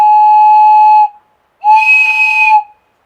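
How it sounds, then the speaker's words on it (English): A homemade whistle cut from an elderberry branch gives two loud, clear, steady tones. The first lasts about a second and the second about a second after a short pause, and the second sounds slightly breathier. "So that's how you make a flute from elder."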